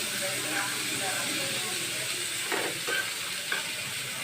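Potatoes frying in a pan with turmeric powder and onions, giving a steady close sizzle and hiss with a few brief stirring scrapes and no voices.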